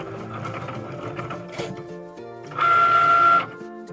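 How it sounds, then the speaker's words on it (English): A Cricut Maker cutting machine works through a coaster design: close mechanical whirring and stepping motor movements, ending in a louder sustained whine of about a second. "Press the button to unload your mat when Cricut Maker is finished cutting your design."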